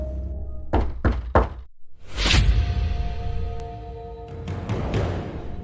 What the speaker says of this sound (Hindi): फिर से किसी ने दस्तक दिया